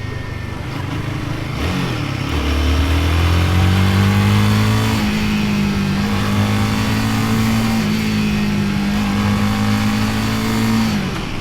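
A Royal Enfield Guerrilla 450 motorcycle on a test ride, its engine loud and close, rising in pitch through repeated revs before settling into a strong, sustained drone.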